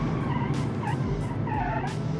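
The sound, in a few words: car tires skidding with front wheel locked, driving video game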